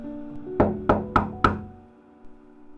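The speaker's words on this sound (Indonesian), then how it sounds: "suara ketukan pintu terdengar dari luar" Four sharp knocks on a door in a horror story, evenly spaced and resonant, each ringing briefly over a quiet low hum before fading out.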